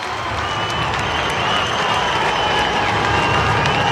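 Football crowd at Adelaide Oval during a Richmond versus Sydney AFL match in light rain, sustained broadband applause and cheering that swells slightly partway through, steady and loud throughout.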